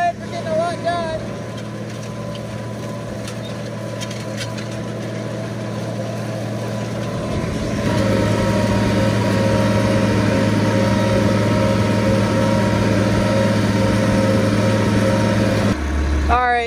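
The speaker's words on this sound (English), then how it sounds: "Tractor's doing pretty good." A tractor tilling a field for oats in 2023 holds a loud, steady engine drone that swells louder about halfway through and then cuts off abruptly near the end.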